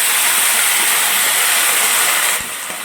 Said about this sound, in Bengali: মশলাটা যাতে পুড়ে না যায় সামান্য জল দিয়ে দিলাম